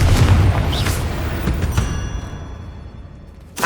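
A Confringo fire spell explodes in Hogwarts Legacy with a deep, heavy boom that rolls off and fades, followed by a sharp crack at the very end.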